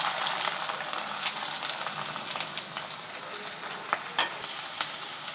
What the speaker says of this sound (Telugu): నూనె పోసి ఉల్లిపాయలు పచ్చిమిరపకాయలు వేయించుకోవాలి.